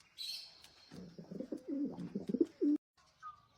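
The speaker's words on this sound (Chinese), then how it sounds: "这2只鸽子也过来了。" Soft, low pigeon coos repeat in a short series, with a few faint chirps above and a brief sustained coo near the end.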